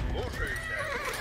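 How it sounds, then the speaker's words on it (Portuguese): Horses in Age of Empires IV, playing the Rus, give rising and falling whinnies over a steady murmur of hoofbeats and battle noise, with a voice talking at the same time. "Precisa de mais cavalo pra patrulhar tudo isso aqui"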